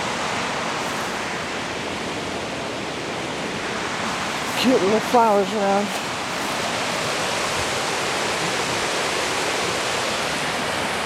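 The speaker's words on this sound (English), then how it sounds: "where the Tualatin River pours into the Willamette River" Constant broadband rush of flowing river water where the Tualatin River pours into the Willamette River fills the scene, with a brief spoken remark near the middle.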